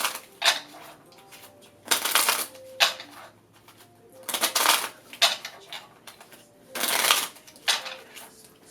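Quick riffling bursts of playing cards being shuffled, several separate shuffles with short pauses between them, close and crisp.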